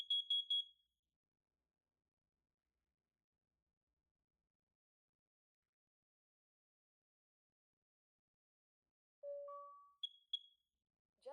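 A Nest Protect alarm runs its carbon monoxide self-test with a quick burst of shrill beeps, a long silence, then a two-note chime followed by more short high beeps, all crisp and isolated.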